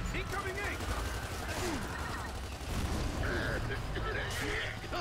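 Heavy gunfire and explosions in Gears of War 2, dense and continuous, with bursts and rattling shots throughout and someone talking over the combat noise.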